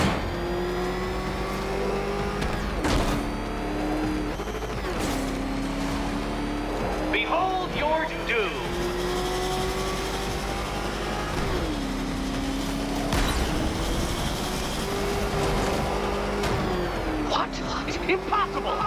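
The Batmobile roars through a Batman: Arkham Knight battle, its engine revving up and dropping in repeated surges with tire and impact noises, under game music and a voice speaking.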